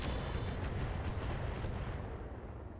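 Mech weapons in the Roguetech BattleTech game fire as a heavy, rumbling barrage of artillery-like booms that rolls steadily and then fades slightly toward the end.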